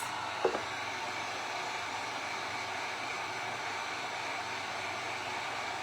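A heat gun blows hot air to dry paint on a primitive fabric box, a steady even hiss that runs throughout after a brief click at the start.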